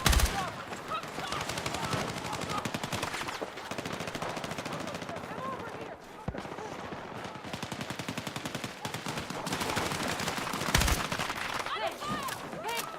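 Heavy continuous gunfire in the video game Battlefield 6, with dense automatic bursts and explosions filling the whole stretch, loud and near, with a player's voice faintly underneath.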